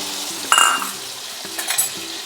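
Shrimp and pumpkin greens with mustard paste and a splash of water stirred in a pan, two bursts of scraping and soft sizzle over a low steady simmer, close and moderately loud, no talk.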